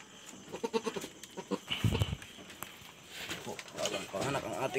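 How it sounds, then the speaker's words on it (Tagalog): A newborn goat bleats in a few close, wavering cries, with people talking nearby on the farm. "Bagong panganak ang ating kambing."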